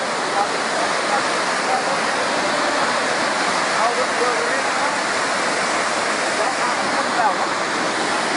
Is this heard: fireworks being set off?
no